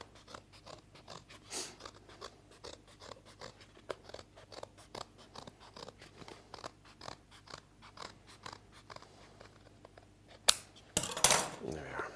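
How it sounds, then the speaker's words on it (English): Scissors snip around the edge of a double-barrelled wedding cake board card, trimming about a centimetre off, in a steady run of small crisp cuts, with a louder rustle and clatter near the end. "just get your scissors and just go around and just take about 1 centimetre off"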